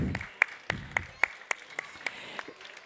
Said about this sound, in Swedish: Och en stor applåd för alla som har varit med.